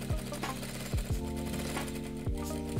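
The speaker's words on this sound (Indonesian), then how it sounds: "Juga di ujung jahitan seperti ini kita double stitch lagi." A sewing machine double-stitches a tote bag made from banner waste, its needle thumping in quick close rhythmic runs with short pauses between bursts, heard up close and alone.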